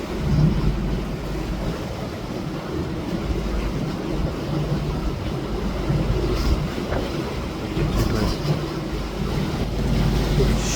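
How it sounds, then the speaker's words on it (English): A boat motors through sea waves on just one engine at half speed, a steady low rumble buried under continuous wind buffeting and surf wash. "we have just got just the one engine going and we're only on half speed"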